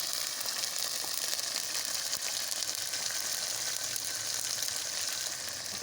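Cumin, ginger, garlic and onion frying in mustard oil, giving a steady, bright sizzle that crackles continuously without talk.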